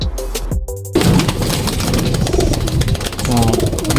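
Racing pigeons coo near the loft in the Philippines on a morning return, soft repeated coos mixed with bird movement and a low engine rumble, while someone talks over them.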